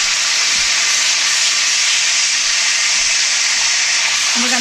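Pork chops frying in a pan make a loud, steady broadband sizzle and hiss that runs unbroken throughout, with a faint tonal knock near the end.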